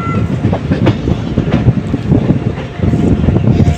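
Narasapur Express rolling from Gudivada toward Kaikaluru, a steady close rumble of wheels with rhythmic clickety-clack over rail joints and wind buffeting the microphone throughout.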